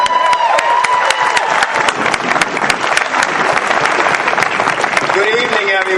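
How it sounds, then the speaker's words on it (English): At an evening political rally on in-state tuition, a close, loud crowd claps vigorously and steadily, with cheers and a few whistles rising over the sharp, continuous applause. "Big round of applause."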